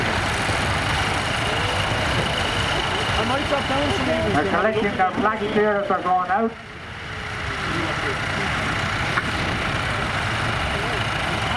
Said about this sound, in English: The Nuffield tractors are now leaving the arena.